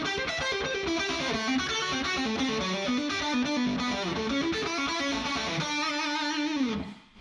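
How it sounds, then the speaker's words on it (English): A Bach piano piece played on a distorted electric guitar, a steady stream of quick picked notes with a repeating rhythmic figure, loud and continuous before cutting off at the end. "a Bach piano piece that I learned on the guitar"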